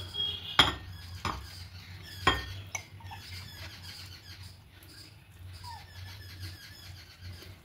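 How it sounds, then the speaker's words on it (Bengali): Soaked small-grain sago being scooped from a bowl into a big bowl, with a few sharp clinks of utensil against dish and soft scraping, moderately close and fairly quiet, no talking. "এবার একটা বড় বোলের মধ্যে সাবুটা নিয়ে নেব।"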